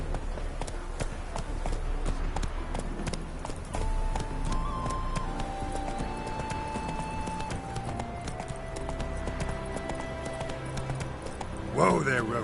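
Roach the horse gallops in The Witcher 3 with rapid, rhythmic clip-clopping hooves at close range, the steady beats running under spoken dialogue and game music, with a brief scuffle at the end.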